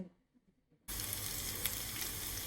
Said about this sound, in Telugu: వంకాయ ఫ్రై అండి